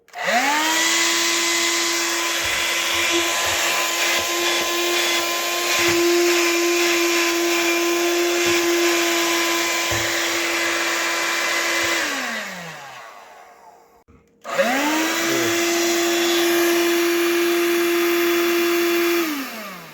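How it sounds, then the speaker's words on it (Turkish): A rechargeable vacuum cleaner converted from nickel to lithium-ion batteries whirs steadily and loudly, winds down to a stop, then starts up again and keeps running. "Süpürge gayet güzel oldu."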